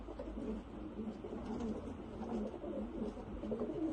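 White Mosul pigeons coo softly in a continuous low murmur, several birds overlapping at moderate distance with no talking.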